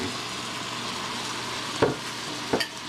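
Ingredients for arroz con pollo fry in a pan with a soft, continuous sizzle, broken by two clear scraping knocks of a spoon stirring near the end.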